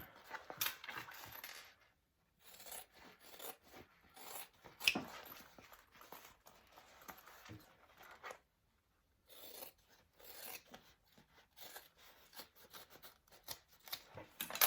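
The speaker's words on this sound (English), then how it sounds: "I am going to trim some of this down so it's not in my way when I put the whole bag together" Scissors trim fabric for a sling bag in several bursts of close, quiet snipping and rasping, with short silent pauses between cuts.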